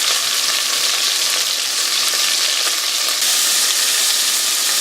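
Beef chunks browning hard in a hot pan for a French-style beef and carrot dish, giving a loud, dense, continuous sizzle and crackle that holds steady throughout with no voices.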